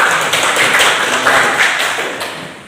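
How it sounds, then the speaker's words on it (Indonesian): A classroom full of students applauding a classmate, a short burst of brisk clapping from many hands that fades toward the end. "Tepuk tangan buat kawannya."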